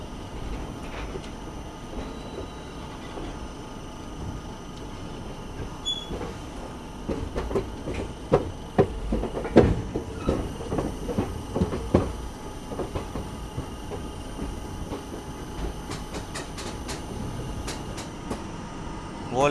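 The Azad Hind Express rolls over the diamond crossing at Nagpur, a steady rumble with irregular wheel clicks and clunks over the crossing that grow busier midway, then settle into rhythmic clatter.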